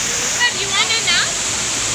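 A waterfall among cliffs in Thailand roars as a steady, loud hiss of falling water, while a voice speaks briefly over it.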